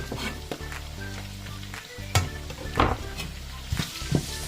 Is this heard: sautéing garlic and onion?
yes